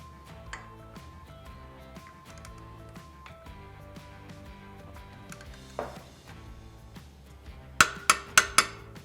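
A torque wrench tightens the rear bolt to 30 foot-pounds while installing an S&S Cycle SuperStreet 2:1 exhaust on a Harley-Davidson Sportster, giving soft ratcheting ticks and then a quick burst of four sharp clicks near the end.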